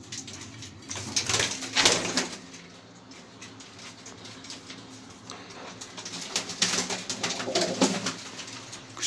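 Soft cooing from fancy pigeons in low repeated bursts, with occasional rustling and a faint hum underneath; moderately close and steady.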